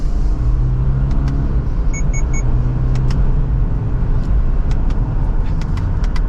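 A 2025 Subaru Forester Limited with a CVT accelerates from second gear using the paddle shifters, giving a steady loud cabin rumble of engine and road noise with faint clicks and no talk.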